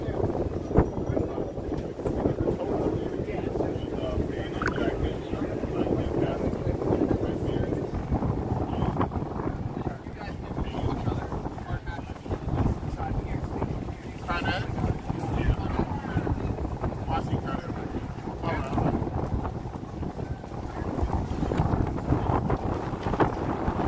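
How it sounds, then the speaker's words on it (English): Strong wind gusting and buffeting the microphone on a New York City street in Times Square, a steady roar with low rumbles throughout, while someone talks over it. "the wind is trying to blow me out of here"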